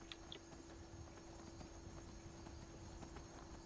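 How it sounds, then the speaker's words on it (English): Horse hooves clip-clop in a steady trot while riding in the video game Skyrim, a continuous rhythmic patter over a low ambient hum, with a brief whinny near the start. "I'm riding a horse"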